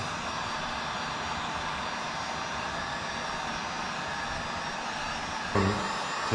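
Hair dryer on low heat blowing over synthetic hair, a steady close-up whooshing hiss that holds evenly throughout, with a brief bump near the end.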